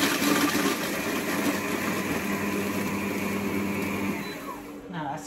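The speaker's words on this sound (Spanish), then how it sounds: "vamos a poner los 100 gramos de galletas y vamos a triturarlos a velocidad 6" A Cecotec Mambo kitchen robot grinds Lotus biscuits at speed 6, a steady whirring blender roar running for several seconds before winding down near the end.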